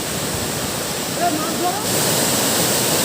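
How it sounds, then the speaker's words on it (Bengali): Mountain stream water rushing under a bridge near Changey Falls on a hill road in Kalimpong, a steady, loud broadband roar that continues unbroken throughout. "এই ব্রিজের নিচ দিয়ে জলটা এই পাহাড়ি রাস্তা ধরে নিচে নেমে চলেছে"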